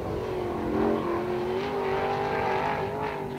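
Sprint car engine screaming steadily on the dirt oval at Attica Raceway Park during an All Star Sprints run, a continuous loud high-revving drone coming off turn four with slight pitch shifts.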